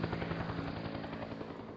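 A Vietnam War-era helicopter gives a steady, close, loud rhythmic rotor thumping with a dense engine roar and no pauses.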